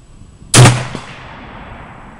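A single loud M39 rifle shot cracks close by with a sharp report, followed by a brief echo that fades away.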